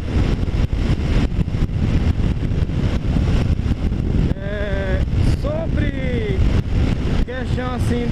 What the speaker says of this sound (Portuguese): começa a jogar bastante vento.